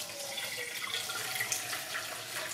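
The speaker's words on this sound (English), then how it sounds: "I'm going to try to pour it off as easily as I can." Raw-milk whey and cottage cheese curds pour into a cheesecloth-lined colander, giving a steady, close splashing trickle of liquid throughout with no talking.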